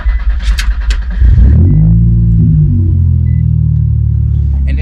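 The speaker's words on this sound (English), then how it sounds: "I just wanted to show you guys now that the idle did go down. It does take a second to start" An Infiniti G35 cold-starts after a short crank, then settles into a loud, steady low idle rumble that continues to the end, with a brief bit of handling noise before the catch.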